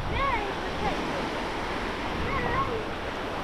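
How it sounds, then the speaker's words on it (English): Ocean waves at a beach give a steady broad wash of surf noise, fairly loud and close, with faint high calls over it and no clear talk. "Big waves? Yeah, very big."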